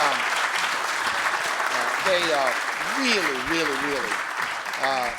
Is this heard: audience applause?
yes